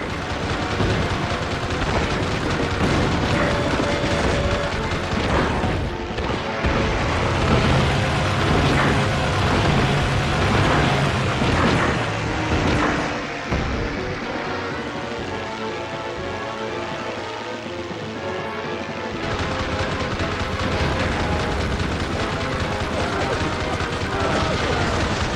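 Heavy gunfire and explosions in the video game Heroes of the Pacific during the attack on Iwo Jima, with a machine gun nest firing: a loud, dense, unbroken crackle of shots and blasts that dips briefly midway, then resumes.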